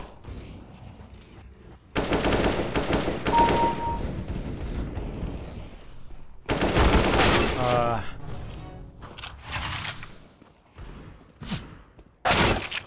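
Pistol fire in the video game Counter-Strike: Global Offensive, heard as sharp bursts of shots in three loud clusters separated by quieter stretches of game ambience.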